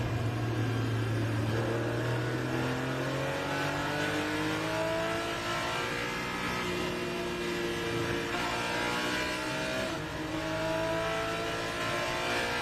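A race car at the PSSA & IGT Enduro endurance race at Road America climbs through the gears, its engine note rising in repeated sweeps with upshifts, steady and fairly loud throughout, with no voices.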